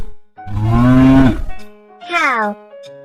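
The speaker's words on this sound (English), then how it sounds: "Cow." A cow moos twice up close, a long loud low moo followed by a shorter one that rises then falls in pitch, with a brief quiet gap between them.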